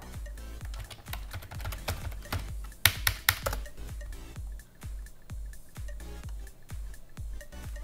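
Someone types on a computer keyboard at a Linux terminal, a quiet, close run of irregular key taps with a brief flurry of faster keystrokes partway through.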